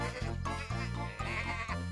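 Cartoon sheep on a farm bleat four times in a row, each a loud, close, wavering call separated by brief gaps, with no talking.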